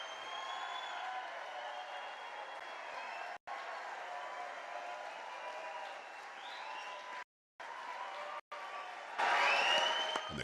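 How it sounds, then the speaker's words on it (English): A crowd at a presidential candidacy announcement applauds and cheers steadily, a dense wash of clapping with brief cutouts, swelling louder with whoops near the end. "And the crowd goes wild."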